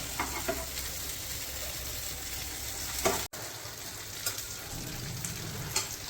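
Surmai and karli fish frying in a pan for a Malwani recipe, a steady close hiss of oil broken by a few faint scrapes, with a brief cut to silence partway through and no speech.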